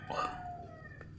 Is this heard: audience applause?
no